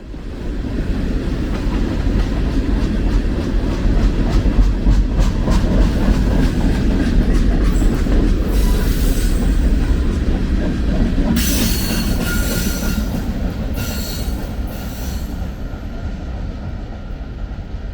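A train running steadily on rails after clearing a rail yard, loud and continuous with rumbling wheels, clickety-clack rhythm and intermittent wheel squeal in the second half.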